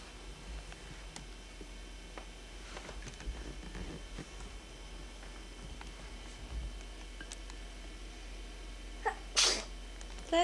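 A single sharp sneeze bursts out near the end of a quiet indoor stretch at a toddler's Christmas gathering, standing alone over soft room noise.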